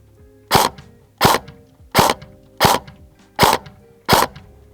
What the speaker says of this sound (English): Resulting in the replica firing one shot per trigger pull.